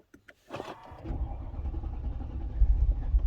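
A Mercedes E55 engine cranks with a few short clicks, then catches and settles into a low, rising rumble that grows louder over a few seconds.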